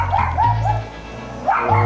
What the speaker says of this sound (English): I'm getting attacked by a tiny dog,